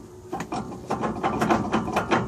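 A vehicle pinion gear with excessive play is rocked back and forth, giving close, dry metallic clunks and ratcheting clicks in an irregular rhythm with no talk.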